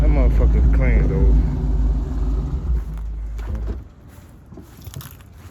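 Dodge Magnum driving down a street, a deep, loud engine rumble with harmonic roar close by that fades away as the car passes, with someone talking over it.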